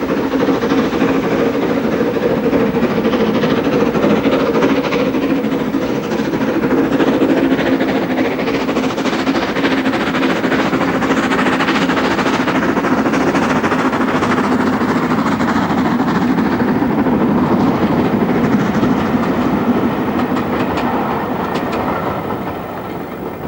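An LMS 7F steam locomotive, number 53808 of the Somerset and Dorset Railway Trust, hauls a goods train with a loud, steady rumble and rhythmic clickety-clack of wagons rolling close by, continuous throughout.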